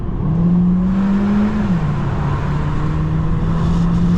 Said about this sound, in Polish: no normalny dźwięk czterocylindrowej benzynki